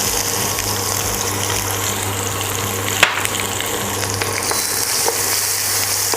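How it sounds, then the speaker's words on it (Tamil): Garlic frying in hot oil with turmeric and chili powder for a village-style tomato pepper rasam, a steady dense sizzle running throughout with one brief sharp knock partway through. "அந்த பச்சை வாசனை அந்த பூண்டுலேருந்து வரும், அது போக வரைக்கும் கொஞ்சம் ஃப்ரை பண்ணுவோம்"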